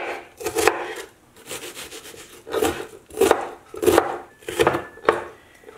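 A knife works through an onion on a wooden cutting board, giving about half a dozen close, rasping cuts and scrapes in uneven bursts with short pauses between them.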